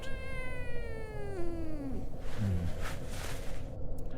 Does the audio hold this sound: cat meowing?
yes